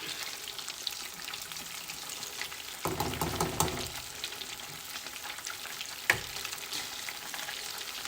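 Mac and three cheese balls deep frying in hot oil give a steady bubbling sizzle, with a sharper burst of crackling as something drops in and a brief clink a few seconds later.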